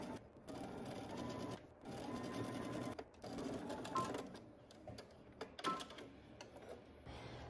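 A sewing machine stitches along the right side of a garment near a finished hem, whirring in several stop-start runs with brief pauses between them, close and fairly quiet.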